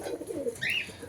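White lokka pigeons give a short, soft cooing call at close range, a low throaty murmur followed by a brief higher note, with no other sounds around it.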